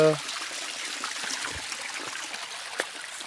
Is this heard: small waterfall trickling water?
yes